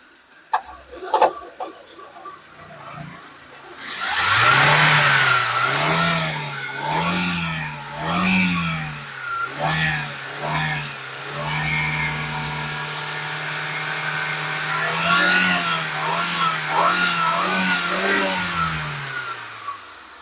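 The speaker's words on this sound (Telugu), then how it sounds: "ఇంజిన్ కూడా రేస్ చేసి చూపించాను. ఇంజిన్ రేసింగ్ లో కూడా చాలా స్మూత్ గా ఉందండి." A 2010 Maruti WagonR's engine is revved repeatedly from idle, with a series of rising and falling surges, then a longer sustained rev and more blips, heard close and loud.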